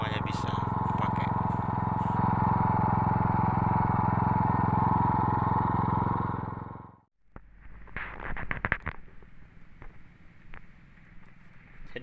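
An engine-driven weed sprayer with a 150-metre hose runs with a steady droning hum for about seven seconds, then cuts off, followed by brief clattering handling noises and quieter background.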